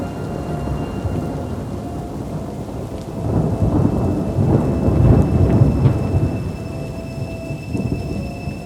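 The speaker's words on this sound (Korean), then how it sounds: "어디선가 천둥 소리가 들려왔다." Thunder rumbles low and heavy through steady rainfall, swelling louder in the middle before easing back, with no voices present.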